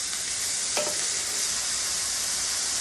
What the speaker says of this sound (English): So you can see that the onions and the mushrooms are sauteing.